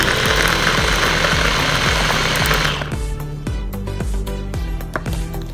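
An electric food chopper grinding mung beans runs loud and close, first in a dense whirring blend, then switching to a steadier, rhythmically pulsing motor hum.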